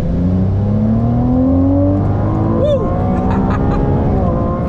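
A Ferrari 296 GTB accelerating hard on the Sepang circuit, its engine note loud and close and climbing steadily in pitch, with a brief dip and recovery as it shifts partway through.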